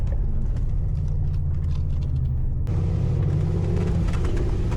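Car on mud tyres climbing a slippery, greasy muddy slope in Auvergne, its engine giving a steady low rumble that shifts in pitch partway through, close and loud, with no talk.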